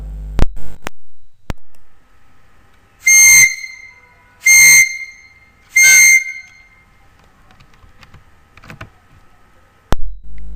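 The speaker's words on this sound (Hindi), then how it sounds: "तो देखिए मैं सीटी बजाने का एग्जाम्पल आपको देता हूँ।" A whistle is blown three times in short, evenly spaced blasts, each sharp and clear against an otherwise quiet room with a few clicks before and after.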